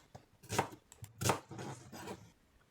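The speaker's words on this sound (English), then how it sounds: "First is a large onion, roughly chopped." A knife roughly chops a large onion on a cutting board, with two loud, sharp chops followed by a few softer cuts, heard close and with no talking.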